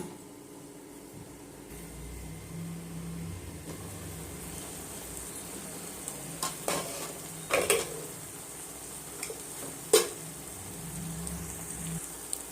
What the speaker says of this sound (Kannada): ಈಗ ಒಂದೆರಡು ನಿಮಿಷ ಮುಚ್ಚಿ ಬೇಯಿಸೋಣ